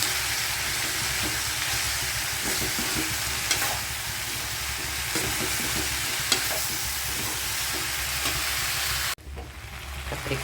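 Eggplant frying in oil, a steady loud sizzle with faint stirring clicks running throughout before cutting off abruptly near the end.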